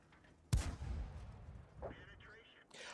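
A tank gun fires in the game World of Tanks, one sharp, loud shot with a rumbling tail, followed by someone speaking.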